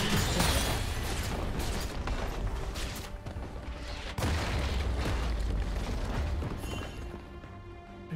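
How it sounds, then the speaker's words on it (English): A turret in League of Legends is destroyed amid dense, noisy match action, with booming crashes and a sudden loud impact near the middle, continuous game effects throughout. "Blue team's turret has been destroyed."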